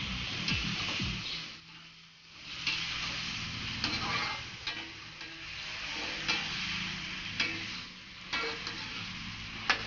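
Brinjal, potato and carrot pieces are stirred around a hot frying pan, a continuous sizzle broken by repeated scraping strokes and light utensil taps, close and fairly loud.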